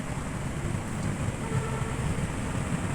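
Steady roar of wind with rain hiss, a dense constant wash of storm noise without any talking.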